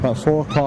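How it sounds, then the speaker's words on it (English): Dogs bark in the background aboard a ferry in Santander Harbour, partly masked by someone talking close up over the whole short moment. "You can hear the dogs barking in the background."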